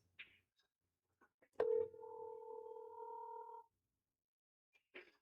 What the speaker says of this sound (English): Let's see if Slate Billiard Club answers the phone